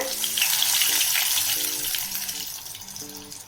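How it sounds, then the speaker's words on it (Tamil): Cheese potato rings fry in hot oil, giving a steady bubbling sizzle throughout, with a faint musical tone underneath and no speech. "ஒவ்வொரு ரிங்ஸாக எடுத்து நம்ம இதில் ஆயிலில் சேர்த்துடலாங்க"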